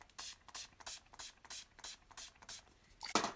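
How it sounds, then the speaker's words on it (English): Several quick hissing spritzes from a spray bottle in a steady rhythm, close and soft, ending with a slightly louder burst. "Let's just do a little spritz"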